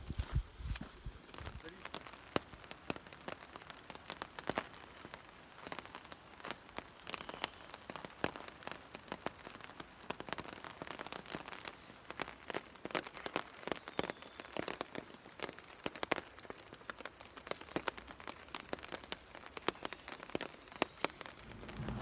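Steady rain falls in the Washington rainforest, a dense patter of drops spread evenly over the whole stretch, with louder close hits scattered through it and no talking.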